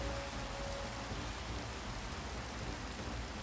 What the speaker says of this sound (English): The rain is very upsetting right now.